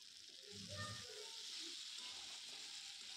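Spices and ginger garlic paste frying and being stirred in a pan for an egg and potato curry, a faint steady sizzling hiss throughout, with a quiet voice briefly underneath.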